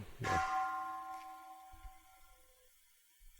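A single bell is struck once at an outdoor Buddhist Dharma sermon ground, ringing out clearly and then fading slowly over a few seconds into quiet, with faint low rumbles afterward.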